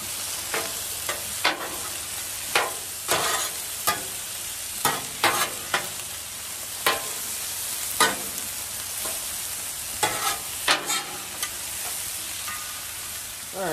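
Vegetables tossed and sizzling on a Blackstone griddle over low heat, a steady sizzle broken by a brisk run of sharp spatula scrapes and clacks, close and loud, with no talking.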